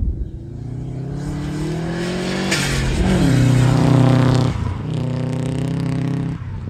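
A Subaru WRX rally car driving in a khanacross: the engine roars loudly and close, revving up through rising gear pulls with brief drops at the changes, and holds a strong drone throughout.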